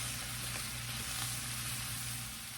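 Cabbage, bacon and onion fry slowly over medium heat, giving a soft, even, unbroken sizzle with a couple of faint ticks from the pan.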